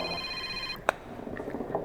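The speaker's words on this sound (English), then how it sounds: "The phone's ringing." A phone rings indoors, a tonal ring pattern that stops partway through, followed by a sharp click and quiet room noise.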